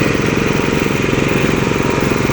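A water well drilling machine engine runs loud and steady at close range during bore drilling in Banjarlor, Banjarharjo, Brebes, its rapid, even mechanical pulse filling the scene with no talk.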